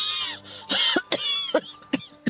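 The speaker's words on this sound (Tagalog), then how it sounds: "Ang sama ng tunog ng ubo mo." Several harsh, close coughs in quick bursts from a person indoors, separated by short pauses, with raspy throat-clearing texture between them and no talk.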